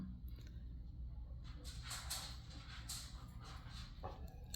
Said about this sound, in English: sorry, I'm distracted by dogs